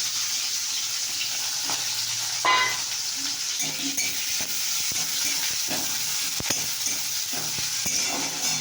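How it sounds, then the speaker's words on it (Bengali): Onions dropped into hot oil, frying with a steady broad sizzle and occasional stirring scrapes, close and fairly loud, no talking. "দেখো তেলটা হয়ে এসছে, পেঁয়াজটা দিয়ে দিলাম।"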